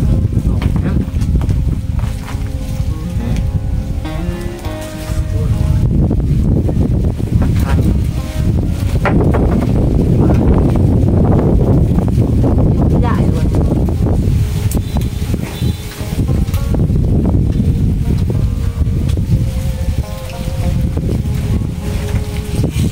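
Strong gusting wind roars across the microphone outdoors during a coconut and jackfruit harvest before rain, loud and continuous with surges and lulls, while people talk underneath.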